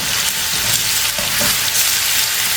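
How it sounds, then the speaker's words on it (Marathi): Ginger-garlic-chili paste with fenugreek and asafoetida sautéing in hot oil for a vada pav potato filling, a loud, steady close-up sizzle with faint stirring scrapes throughout. "आता आपण तो एखाद्या मिनिट परतून घेणार आहे"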